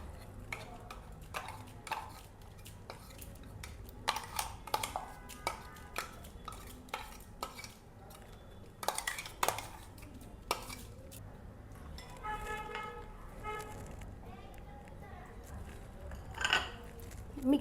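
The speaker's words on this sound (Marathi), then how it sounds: "ते आता मिक्स करून घेऊ" A spoon stirs date paste and milk into shrikhand in a bowl, making irregular clinks, scrapes and taps against the bowl, close and moderately loud, with a faint voice now and then.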